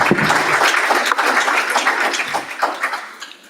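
Audience at a chapter technical and business meeting clapping together, a dense, fairly loud burst of applause throughout the short stretch, tapering slightly at the end.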